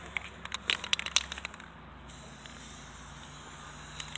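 Short hissing bursts from a spray paint can marking property lines outdoors, a quick series of sharp sprays in the first second and a half, then quiet background.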